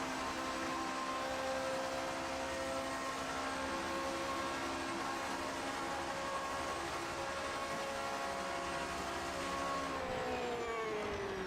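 Racing car engine drone from outside the car in the sim game Project Motor Racing, likely the Porsche, holding a steady roar with harmonic whine that shifts pitch near the end, loud and continuous with no talk.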